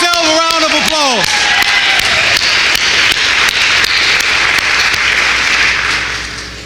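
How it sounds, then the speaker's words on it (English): Audience applause at the National Reparations Convention in Washington, D.C., a broad crowd of clapping that swells and holds, then fades near the end, with a brief musical tone at the start. "Give yourself a round of applause."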